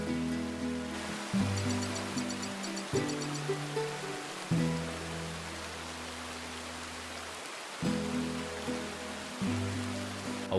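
Steady rain hisses through a Red Dead Redemption survival game scene, a continuous wash of downpour under a droning, looping musical tone.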